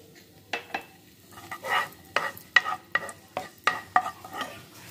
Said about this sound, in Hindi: अब हम इसमें किशमिश को भून लेते हैं।